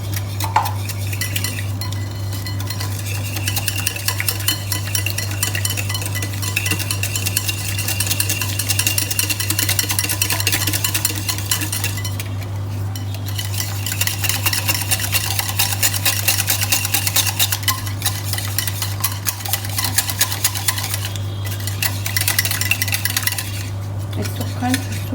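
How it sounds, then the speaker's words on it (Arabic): Eggs and sugar for a lava cake whisked in a bowl: continuous rapid clinking and scraping of a utensil against the bowl over a steady low electrical hum, close and unbroken, with no talking. "لازم اخلط البيض كويس كويس، واحط معلقتين سكر كبار"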